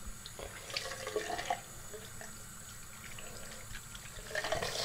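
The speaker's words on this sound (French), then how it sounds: "je vais prendre plutôt de l'eau chaude" Hot water running from a tap into a sink during a morning routine, a steady close splashing stream with slight shifts as hands move through it.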